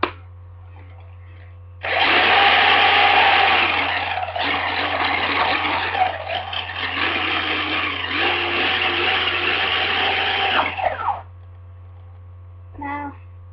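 A 40 mph RC car's electric motor whirs loudly in one continuous, high-pitched burst of about nine seconds as its wheels spin fast, then cuts off sharply into near silence.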